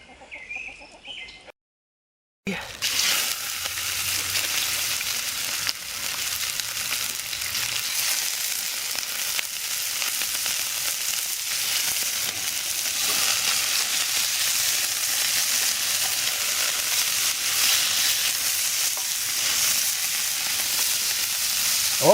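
Onions frying in oil in a pan at a lakeside campsite, a steady, bright hiss and crackle that runs loudly and evenly for about twenty seconds after a brief pause at the start.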